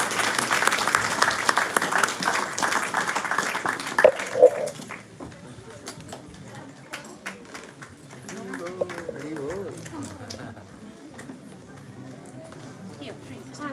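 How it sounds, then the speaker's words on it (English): An audience at a Sunday love feast program applauds children dressed as Ramayana and Mahabharata characters, loud sustained clapping for about five seconds that then fades into quieter crowd murmur and a voice speaking. "please give them a big round of applause to all those kids"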